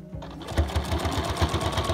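A sewing machine stitching a chair cover runs steadily and close by, a fast rhythmic mechanical chatter with regular needle thumps throughout.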